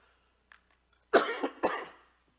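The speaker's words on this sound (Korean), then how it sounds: "기침 소리는 그래도 다 괜찮습니다" Two harsh coughs in quick succession from a man with bronchial trouble giving a Sunday church sermon, close and fairly loud against near silence, preceded by a couple of faint small sounds.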